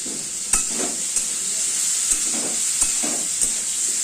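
Mixed vegetables, cooked with hilsa fish head and Malabar spinach, fry in a pan under regular stirring, a steady close sizzle punctuated by about six sharp spatula taps against the pan, no voices.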